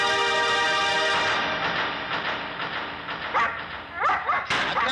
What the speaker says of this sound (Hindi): फिर क्यों भौंक रहा है?